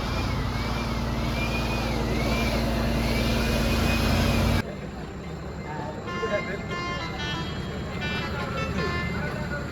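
A vehicle carrying a rock band's gear pulls out, its engine a loud, steady roar with a horn-like tone, then dropping to a quieter rumble as voices talk nearby.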